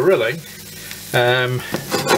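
Food sizzles and crackles under a grill, with brief tonal clatter between steady bursts of frying noise.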